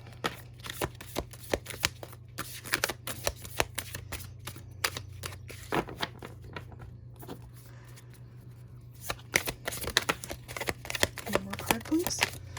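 Tarot cards shuffled by hand in a series of quick, crisp riffles and taps, close and fairly quiet over a steady low hum, pausing briefly midway before resuming.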